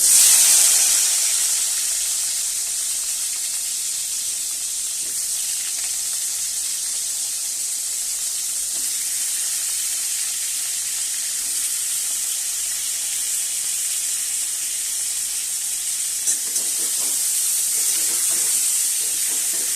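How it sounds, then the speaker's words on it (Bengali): Eggplant pieces fry in hot oil with a loud, steady hiss and sizzle that surges at first and then holds constant and close, running alone without talk. "এবার আমি বেগুনগুলোকে সব ছেড়ে দেবো, ভাজবো।"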